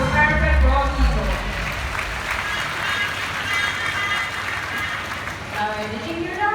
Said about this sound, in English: So why don't we give her a round of applause